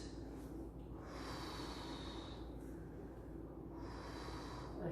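Slow, deep breathing during a power yoga stretch, with two long airy inhale-exhale cycles close to the mic over a steady low room hum.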